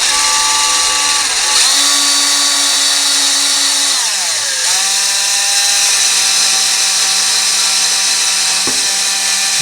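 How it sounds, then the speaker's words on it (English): A power drill bores a pilot hole through wood while a bathroom vanity is installed, its loud, close motor whine running steadily and shifting pitch as the bit bites and the speed changes. "so now we drill through the wood itself"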